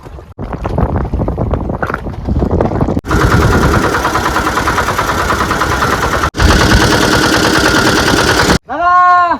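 A fishing boat engine on the Bidyadhari river in stormy wind, loud close motor drone with heavy wind buffeting the microphone, cutting out briefly between runs.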